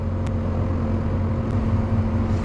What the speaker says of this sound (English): Got a lot of traffic going by right now.